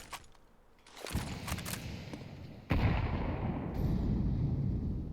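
A grenade and a molotov go off in a Counter-Strike match at ESL Pro League: two loud, sharp bursts about a second and a half apart, each followed by a sustained roaring rumble, with no talk.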